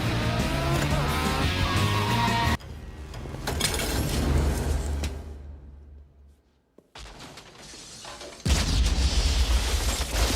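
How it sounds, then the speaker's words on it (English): Action movie soundtrack from the Mission Impossible 2 motorcycle chase: roaring engines, crashes and impacts, loud and continuous with a brief quiet dip in the middle, and no speech. "Mission Impossible 2 is best known for this explosive bike chase"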